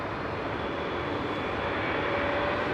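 Jet airliner engines, CFM or CF6 type, idle overhead near London Heathrow, giving a steady, loud broadband roar with a faint tonal whine that holds constant throughout, no voices present.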